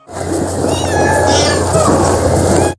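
A Van cat at a university cat villa gives one long, loud, drawn-out meow close by, lasting nearly three seconds over a low steady hum.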